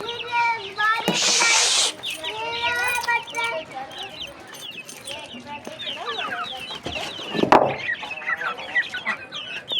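Chickens cluck and chatter nearby in a busy, overlapping stream, with a sharp flurry of noise near the start and more calls throughout.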